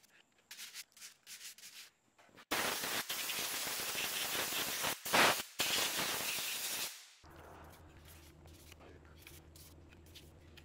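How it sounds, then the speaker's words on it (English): Sandpaper scrubs back and forth against knife handle scale pieces of a Persian knife, a loud steady rasping lasting several seconds after a few short strokes, then dropping to a faint hum. "Before gluing them, you want to abrade all the surfaces with sandpaper"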